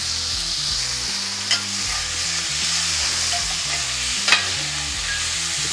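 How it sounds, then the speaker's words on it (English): Onions and peppers fry in a pan for a cheesesteak, with a steady bright sizzle and scraping stirs of a utensil, and two sharper clacks against the pan; low background music runs underneath. "Just keep moving these onions and peppers around."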